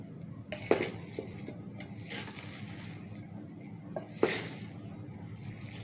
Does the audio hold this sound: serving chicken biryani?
yes